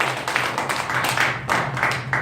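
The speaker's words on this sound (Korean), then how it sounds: "공감에 가시는 분 박수 한번." Applause from an audience at a leadership lecture, a short burst of brisk clapping in uneven waves, loud and close, with no voices.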